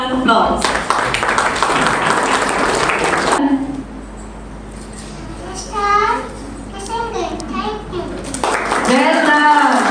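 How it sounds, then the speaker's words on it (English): An audience at a preschool class presentation in Lucknow claps for the young children, a dense burst of applause, then children's voices speaking, then another round of clapping near the end. "Let's encourage them with a big round of applause."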